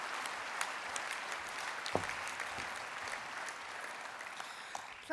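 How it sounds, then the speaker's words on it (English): A crowd at a political party conference applauds steadily, dense clapping that holds at an even level throughout, with no voices over it. "So a big round of applause, please, for Julia."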